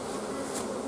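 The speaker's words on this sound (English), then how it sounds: "Underneath, scrape off the bees" Honeybees at an opened hive during winter brood management, a dense continuous buzzing close to the microphone, steady and unbroken for a brief moment.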